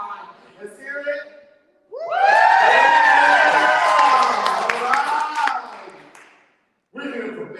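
An audience stomps and cheers in a loud, sustained roar of shouting and clapping with a rumble of feet, rising sharply after brief talk and cutting off before a voice resumes.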